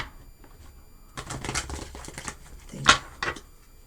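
Tarot cards shuffled by hand during a reading, quick riffling bursts and soft slaps of the deck, moderately close and without speech.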